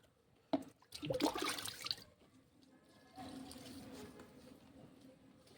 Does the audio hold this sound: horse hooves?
no